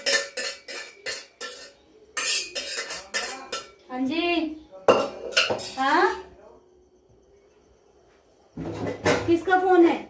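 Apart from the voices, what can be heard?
food transferred into a large pot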